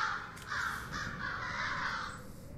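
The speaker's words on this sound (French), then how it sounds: "Vous entendez ça et là quelques corbeaux." Several crows caw over desolate ground near a manor, a run of harsh repeated calls over a steady low background.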